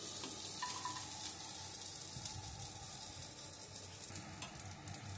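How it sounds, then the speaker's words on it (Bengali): Garlic and green chilli frying in hot oil for a bottle-gourd-leaf and shrimp mash, a continuous close, crackling sizzle with stirring scrapes, fairly quiet and steady throughout, no voices. "এবার আমি দেবো রসুন আর কাঁচা লঙ্কাটা।"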